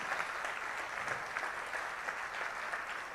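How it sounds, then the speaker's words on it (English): A crowd applauds engineers at a speech on India's growth, a soft, even wash of many hands clapping at a distance, sustained without a break. "Give a big round of applause for all the engineers."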